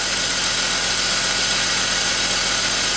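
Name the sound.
BMW X5 engine idling smoothly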